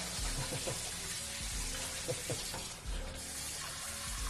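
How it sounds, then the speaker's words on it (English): Steady rush of cold water pouring and splashing into a pot, continuous and fairly close, with a few clinks partway through. "so just putting some cold water in there."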